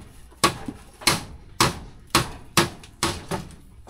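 A hammer strikes six times in a steady rhythm while a tree is being trimmed outdoors, each blow a sharp, close crack with a short ringing tail.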